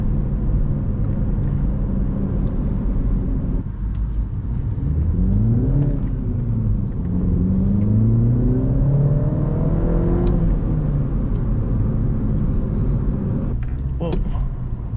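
A MINI Cooper S engine hums on a local drive, then revs rise and fall in clear sweeps as it accelerates through the gears. A few short pops sound on the downshifts near the end.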